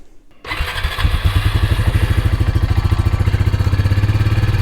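A quad bike's engine cranks briefly, then catches and settles into a loud, close, rapidly pulsing idle with a steady clattering rhythm, heard alone without any talking.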